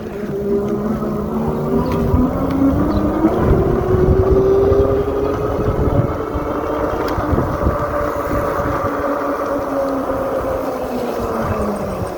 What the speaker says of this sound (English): There is the amount of road noise from the tires that you would expect